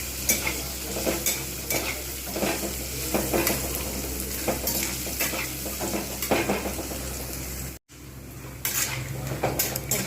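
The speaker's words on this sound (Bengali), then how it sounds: "বেশ কিছুক্ষণ সময় নিয়ে পুরো বাদামটা আমি আর ভেজে নিই।" Peanuts are stirred and dry-roasted in a pan, with a steady scraping and rattling of the nuts against the metal and a soft sizzle throughout, broken by one brief pause.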